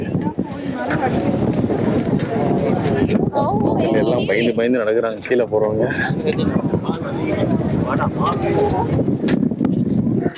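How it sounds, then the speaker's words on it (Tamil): Strong wind roars and buffets the microphone at the Sigiriya rock fortress in Sri Lanka, loud and constant throughout while a person talks over it. "செம்ம காற்று வேறு அடிக்குது"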